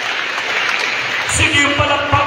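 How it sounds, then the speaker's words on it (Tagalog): A church congregation claps while a voice speaks over it; the applause is a moderate, continuous patter that thickens toward the end. "Palakpakan natin ang ating Panginoon."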